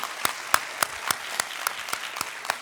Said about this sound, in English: Let's give Dr. Jenkins another round of applause.